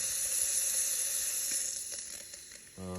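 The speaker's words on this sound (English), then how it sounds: "really strong steam" A steady, strong hiss of steam from a Lelit Victoria espresso machine wand streams continuously, then fades, and a low motor hum starts near the end.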